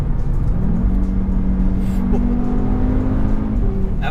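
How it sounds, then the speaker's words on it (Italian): Audi RS3 with a transversely mounted turbocharged engine and open exhaust valves, revving under throttle with a steady, droning engine note that rises in pitch, up close, with no talking. "A valvola aperte è un vero piacere schiacciare il pedale del gas e sentire questo 2005 turbo trasversale cantare"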